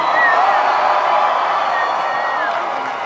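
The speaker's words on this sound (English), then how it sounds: "You cheered about Anaheim." A live audience at a Halloween Horror Nights panel cheers and whoops with a steady roar of voices, loud and sustained throughout.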